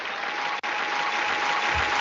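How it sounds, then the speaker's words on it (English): A group claps in a dense, continuous burst of applause with one brief drop partway through. The sound is fairly close and no one speaks over it. "that was the worst clapping in history"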